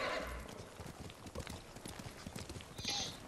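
Horse hooves clip-clop steadily in Ghost of Tsushima, a quick even trotting rhythm close by and fairly quiet, with a short whinny-like sound near the start and another near the end.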